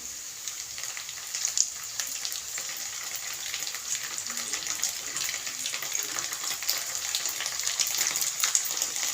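Onions frying with tomato sauce in a pan, a steady close sizzle and crackle that holds for several seconds and grows slightly louder toward the end, with no voices.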